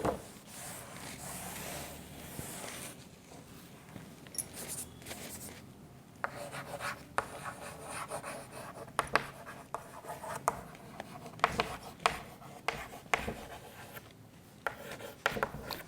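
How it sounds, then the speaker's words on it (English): Pen or pencil writing on paper during a Class VII English lesson, a steady close scratching and rubbing with irregular taps and strokes, fairly quiet and without talk. "So, children, let's start writing."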